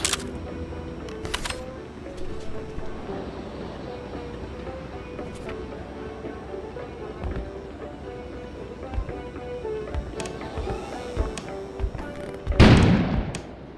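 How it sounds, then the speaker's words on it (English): A sudden explosion bursts outside in the video game Kona, a loud, sharp blast near the end that follows a long stretch of quiet game ambience and scattered faint knocks. "An explosion suddenly occurred outside."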